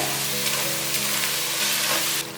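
Chickpea mash and tofu-skin mash sizzle steadily as they are stir-fried in a pan, a continuous close hiss with faint stirring and no talking.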